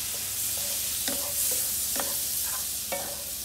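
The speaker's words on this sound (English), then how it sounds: "I'm just going to mix this up." Food sizzles steadily in a pan with melting butter for tilapia with peppers, while a utensil stirs it in several distinct scraping strokes, close and clear.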